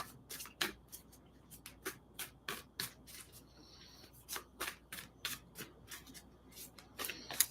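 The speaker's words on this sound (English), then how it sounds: "The cards really want a good shuffle this week." Tarot cards being shuffled by hand, a steady series of crisp riffling bursts close to the mic, each a short papery flutter repeating every half second or so, with no talking.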